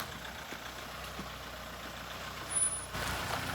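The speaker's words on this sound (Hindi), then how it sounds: "तो जी ये आ चुकी है अपनी गाड़ी" A vehicle pulls up on a rough mountain road near Nako village in the Himalayas, its low engine idling fairly quietly, followed by a brief sharp hiss like an air brake and then a louder rumble.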